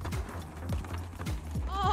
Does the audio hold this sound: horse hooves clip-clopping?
yes